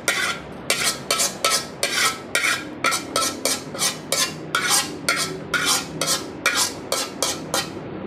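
Chicken sautéed in a hot pan for arroz caldo, with a regular rhythm of spatula strokes scraping and stirring against the pan over a constant sizzle, close up and without talk.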